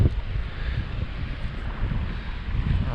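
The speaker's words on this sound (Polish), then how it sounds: "wiatr wieje" Steady wind roars and buffets the microphone, a continuous broad rushing noise with no voices.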